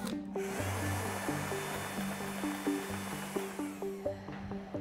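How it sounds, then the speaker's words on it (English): A leaf blower pushes a steady, loud rush of air at a spinning ring of golf balls, with a continuous motor drone and periodic clicks and rattles running through the whole stretch. "Here's what happens when I try and push it back with this leaf blower."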